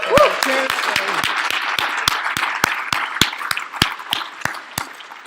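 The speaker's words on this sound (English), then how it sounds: "there is another Nathan that deserves applause" An audience claps steadily, with sharp individual claps standing out from a dense round of applause that carries on throughout.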